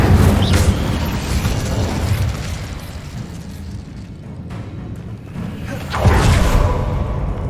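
The Incendio fire spell cast in Hogwarts Legacy, a loud whooshing burst of flame that roars and fades, then flares again with a second fiery blast near the end, with no talk.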